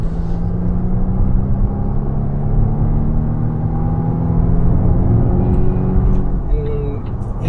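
Engine hum and road rumble from a 2-ton Volvo XC90 speeding up to overtake on a highway, a steady loud drone with a slowly rising pitch that runs through the whole stretch.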